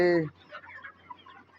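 A hen in a farmyard flock gives a short loud cluck, followed by softer scattered clucks and pecking sounds at a moderate distance.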